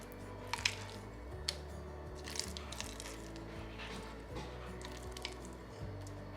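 Spinach mixture is spread with a spoon over meat sauce in a dish, giving soft, wet squishing and light scraping with a few small clicks, quiet over a steady low background hum.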